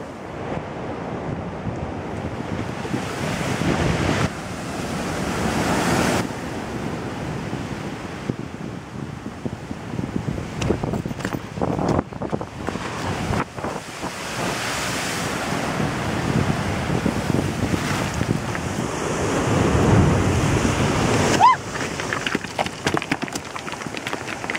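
Strong ocean surf on the Madeira coast crashes and rolls continuously, with heavy wind buffeting the microphone and surges of breaking waves throughout.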